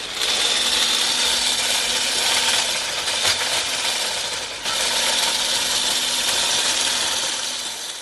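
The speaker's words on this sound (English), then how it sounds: "once we start to whip the eggs" Electric mixer whipping egg whites with sugar for an old-fashioned banana pudding, a steady loud whirring drone that runs the whole time with a brief dip near the middle, no voices.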